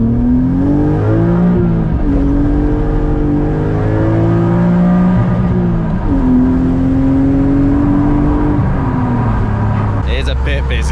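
Car with a 2.8 engine swapped into a compact, driving off near and loud: the engine revs and drops through several gears in rising, falling sweeps, with a sharp rattle and clunk at the end.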